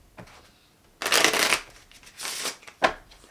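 A deck of playing cards being shuffled at close range, with three distinct riffling bursts, the first longest and loudest, separated by short quiet gaps.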